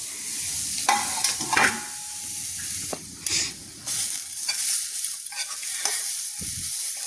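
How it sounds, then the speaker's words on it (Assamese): Grated coconut fries in a kadai with a steady, close sizzle, broken by several scraping stirs of a spatula; no one speaks. "ইয়াতে মই এয়া ৰুকি লোৱা নাৰিকলখিনি ধুনিয়াকে ভাজি লওঁ"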